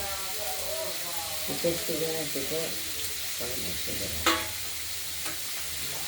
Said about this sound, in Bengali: এটা আমরা এইভাবেই ভাজা করে নেব